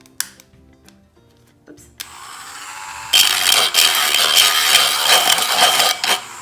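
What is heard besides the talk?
Dremel rotary tool sanding inside of metal cans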